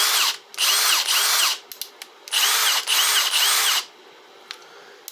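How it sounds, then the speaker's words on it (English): A Milwaukee M18 Surge hydraulic brushless impact driver (2760-20) runs in two loud, close bursts of whirring drive about a second each, with a brief trigger blip and quieter handling between. "This is the M18 Surge hydraulic brushless M18 volt impact driver."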